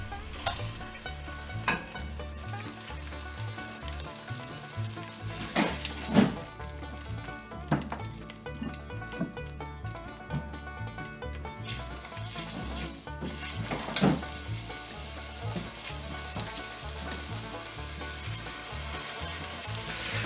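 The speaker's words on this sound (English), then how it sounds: "Just brown the meat, a couple minutes on each side" Pork browning in a pan for slow-cooked, smoked pork gives a steady, close sizzle and crackle, with occasional knocks and scrapes over the continuous frying.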